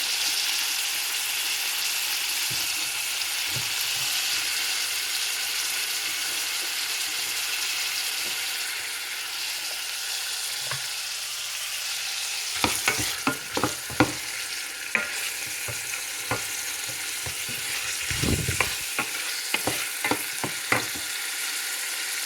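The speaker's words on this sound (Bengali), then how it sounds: "চিংড়িটা আমি পেঁয়াজের সাথে কিছুক্ষণ ভেজে নেব" Red prawns frying with onions in a pan, a steady hiss of sizzling oil throughout with louder scraping stirs and clatters of a utensil against the pan in the second half.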